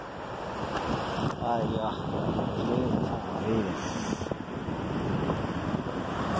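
Rough sea surf roars steadily close by, churning under gusty wind that buffets the microphone, while a person speaks briefly over the noise.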